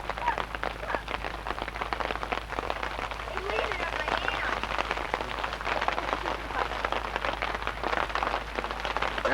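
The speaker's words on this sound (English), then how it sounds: "Under the rain where the tarp does not quite go" Dense, steady patter of rain drumming on a tarp and tents at a campsite, an even crackling texture close by, with people talking faintly underneath.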